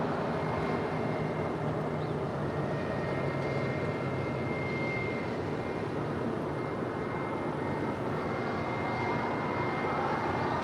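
A Spirit Airlines Airbus A320 in birthday cake livery, arriving from Houston at LAX, makes a steady broadband jet roar that holds throughout at moderate distance, without talk.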